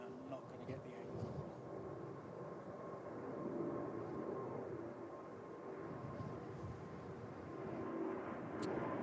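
An airliner climbs steeply after takeoff during severe wind, producing a steady distant jet engine roar with gusty rumble, fairly quiet and continuous.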